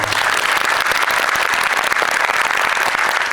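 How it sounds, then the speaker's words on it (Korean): Dense, steady applause fills a cinema audience at a film talk event, a continuous loud wash of many hands clapping with no voices over it. "너무 멋진 영화에 대한 대답을 들려주신 전용서 배우님께 박수 한번"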